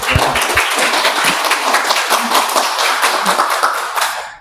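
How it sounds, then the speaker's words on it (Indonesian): A student audience at an entrepreneurship talk show claps for a former geography student association chair, opening with a few distinct close claps before building into sustained applause that fades out at the end. "Oke, tepuk tangan dulu dong buat"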